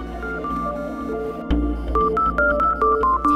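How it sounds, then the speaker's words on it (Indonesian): A telephone being dialed to call a number, a quick series of short electronic keypad tones beeping one after another at a steady pace, fairly clear and close. "saya telepon ya"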